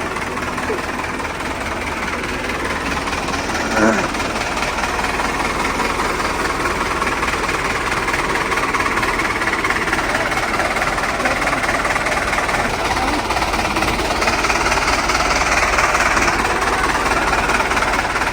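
Tractor engine running steadily at close range with a rough, knocking idle while a farm water-pump motor is lifted, the drone continuous and fairly loud throughout with no talk.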